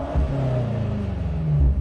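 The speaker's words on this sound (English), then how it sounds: "Every time bro sets foot on the gas pedal," A BMW M8 engine rumbles and revs up steadily, with a low growling exhaust note that rises in pitch as it accelerates close by.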